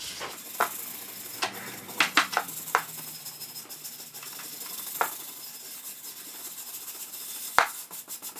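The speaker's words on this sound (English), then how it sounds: "And then I just have a stainless steel brush," A stainless steel brush scrubs vise parts in a soft, continuous rasping rub, with a few sharper scraping accents and light knocks scattered through.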